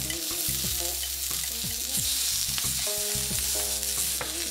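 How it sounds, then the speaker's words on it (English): Onions and other vegetables sautéing over really high heat for Korean gu jeol paan, a loud, dense, continuous sizzle and crackle close up, with no one talking. "Make sure you saute the vegetables in really high heat, really quickly, starting with the onions."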